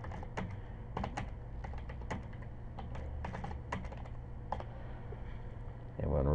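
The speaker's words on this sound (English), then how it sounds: "if I could type" Computer keyboard typing as a report is filled in, with quick irregular key clicks close by over a low background hum, ending in a brief burst of louder noise.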